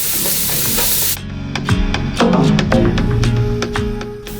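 Curry leaves hit hot oil in a pan of Kerala-style beef fry, with a steady broadband sizzle at first, then a series of sharp crackles and spits as cooking continues, close and fairly loud with no talking.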